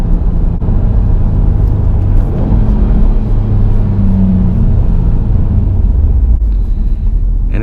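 A 2018 Subaru WRX STI engine rumbles steadily from inside the car during a downshift, a loud low drone with a brief shift in pitch midway and faint clicks near the end.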